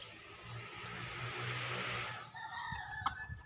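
A rooster crows loudly nearby, a long drawn-out call, followed by softer clucking from chickens close by in a small coop.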